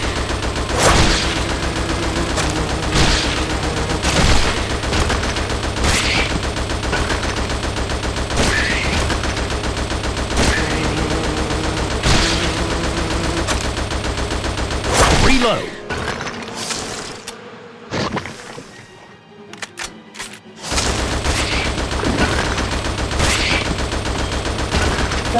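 Dense rapid gunfire rattles almost without pause in the video game Attack Of The Movies 3D on Xbox 360, loud and continuous over game music, then briefly drops away before resuming.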